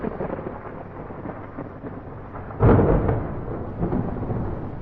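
A video-game thunderstorm: steady rain hiss runs under a sudden loud thunderclap about halfway through, which rolls on and fades, with no talking.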